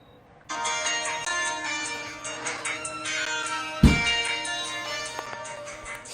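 A mobile phone ringtone plays steadily indoors for several seconds, a bright melodic tone that runs without a break, with a single dull thump near the middle.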